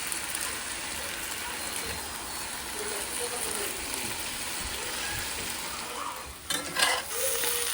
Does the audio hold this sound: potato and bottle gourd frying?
yes